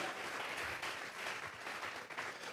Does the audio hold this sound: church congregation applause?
yes